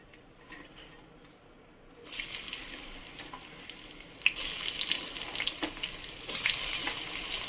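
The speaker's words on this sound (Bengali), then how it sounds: "পেঁয়াজটা ভাজা করে ফিরছি" Sliced onions sizzle in hot oil with whole garam masala in a wok for mutton kosha. The pan is quiet at first, then a loud, steady frying hiss starts after about two seconds and grows denser.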